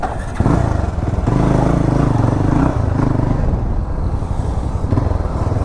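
A motorcycle engine with its stock exhaust idles and revs close by, a loud, continuous throbbing rumble with a steady pulsing beat throughout.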